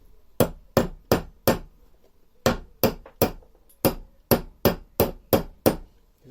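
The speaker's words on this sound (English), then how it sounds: "give it a very light tap with the hammer" A hammer lightly taps a new roller bearing into the gearbox of a Honda 536 roller mower. The sharp metallic taps are clear and close and come in three groups of four, each group evenly spaced.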